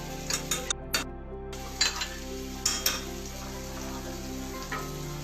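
Cumin seeds hit hot ghee in a pan, setting off a steady soft sizzle broken by a few sharp crackles and clinks of the utensil.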